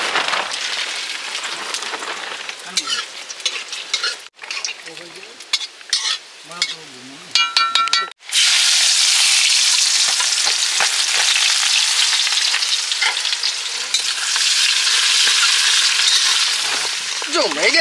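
Whole spices (dried red chillies, cardamom pods, cinnamon sticks and bay leaf) drop into hot oil and burst into a loud, close, steady sizzle after a few quieter stirring clatters.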